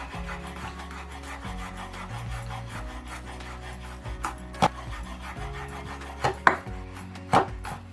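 A knife finely chopping bashed garlic on a cutting board, a close run of rubbing, scraping strokes with a few sharper knocks of the blade hitting the board near the end.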